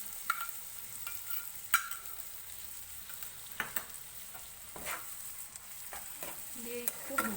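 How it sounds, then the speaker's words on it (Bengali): Spice masala frying in a pan as beaten sour yogurt goes in for a potato and pointed gourd curry, a faint, even sizzle broken by scattered utensil clicks and scrapes, with no voices. "মশলাটাও ভাজা হয়ে গেছে, এখন আমি টক দইটা দিয়ে দিব"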